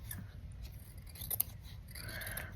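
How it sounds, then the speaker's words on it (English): Scissors snip and trim the edge of a small fabric material tag, a close, quiet run of rasping blade cuts over faint background hum, with one sharper snip standing out. "I'll just trim that side a bit"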